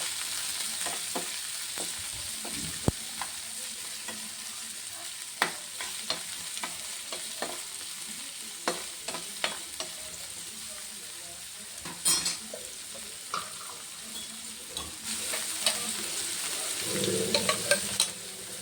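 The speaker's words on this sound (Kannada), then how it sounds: "ಅದೇ ಒಂದು ಅರ್ಧ ಕ್ಯಾಪ್ಸಿಕಮು, ಅದನ್ನು ಕೂಡ ಫ್ರೈ ಮಾಡಿ ಇಟ್ಕೋತಾ ಇದ್ದೀನಿ ಈರುಳ್ಳಿ ಜೊತೇಲಿ." Chopped onion and half a capsicum frying together in a pan for a soya roll stuffing, giving a steady soft sizzle. A spatula stirs and scrapes against the pan in frequent short clicks, with no voices.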